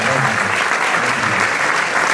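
Loud, sustained applause from a crowd at a press conference with a singer, dense continuous clapping filling the whole moment.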